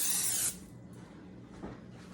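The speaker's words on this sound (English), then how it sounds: "Get in the habit of spraying the inside of your crock with cooking spray before you start" Cooking spray hisses from an aerosol can into the inside of a slow cooker crock in one loud, close burst of about half a second, followed by quiet handling sounds.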